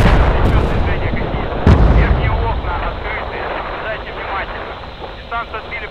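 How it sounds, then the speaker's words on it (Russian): A single sharp gunshot rings out near the start of an outdoor scene, with a second heavy blast around the middle, over a dense rumble of wind and distant battle noise. "Звук выстрела слева."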